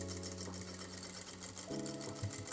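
A sewing machine runs steadily as it backstitches fabric, a close, even mechanical hum with a brief shift in pitch partway through as the stitching reverses.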